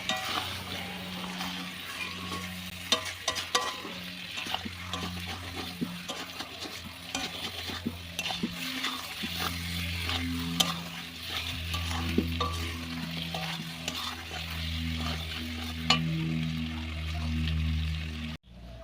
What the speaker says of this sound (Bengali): এখন আমি মাংসটা কষাচ্ছি